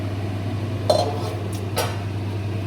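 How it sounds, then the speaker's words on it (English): A spoon stirring chicken curry in a pot, giving two or three brief clinks and scrapes against the metal over a steady low hum from the stove. "give it another stir"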